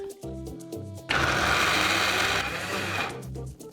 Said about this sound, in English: And for grinding the almonds we're going to use some milk.